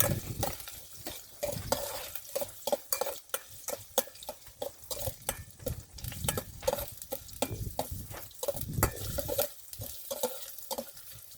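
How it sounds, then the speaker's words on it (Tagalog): Onion, garlic and ginger sautéing in a pan at a campsite, steady sizzling with repeated rhythmic scraping stirs of a spatula against the pan, close and continuous. "gisa muna tayo"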